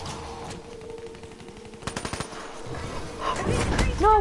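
Video game gunfire in a first-person shooter: bursts of rapid shots and single cracks, moderately loud, scattered through the clip alongside other game effects, with some chatter.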